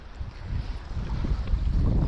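Wind buffets the microphone with low rumbling gusts, fairly loud and uneven throughout, on a northern fishing trip in summer.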